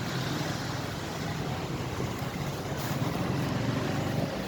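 A Honda Vario motorbike engine drones steadily while riding, mixed with constant wind rush, loud and unbroken with no talking.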